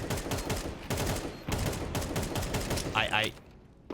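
Rapid bursts of gunfire in a Counter-Strike 2 match, dense repeated shots over roughly three seconds with a brief gap near the end, loud and close.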